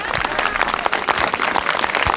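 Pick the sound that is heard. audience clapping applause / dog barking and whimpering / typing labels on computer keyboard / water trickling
audience clapping applause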